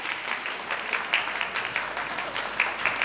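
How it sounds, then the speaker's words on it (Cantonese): Applause for award-winning kindergarten pupils at a school prize-giving ceremony, with a moderately sized audience clapping steadily and audible individual claps standing out throughout. "再次俾掌聲得獎嘅同學仔"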